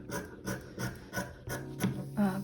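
Scissors cutting leftover fabric for a beanie: about six soft, rhythmic snipping and rasping strokes close by, quiet and with no talking.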